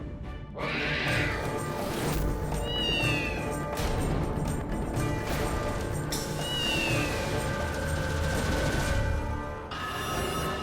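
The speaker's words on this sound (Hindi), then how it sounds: "बॉस के बंगले में आते ही काली बिल्ली ने हमारा रास्ता काट लिया।" A black cat meows repeatedly at the grounds of a boss's bungalow during a comedy picnic scene, its rising and falling cries standing out over a loud, steady wash of background noise.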